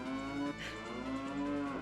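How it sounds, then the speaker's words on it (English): Cows moo repeatedly in the video game Ocarina of Time, several long, steady low tones in close succession. They play loud and clear on their own, without speech. "will not be listening to cows mooing over and over again"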